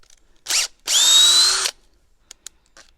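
Makita DHP482 cordless drill driving and countersinking a screw into wood, with a brief spin-up followed by a sustained loud motor whine, then a few faint clicks.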